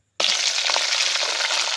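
After a moment of silence, hot oil erupts into a loud, continuous sizzle as tempering goes into the pan for a semolina dish, crackling evenly close up.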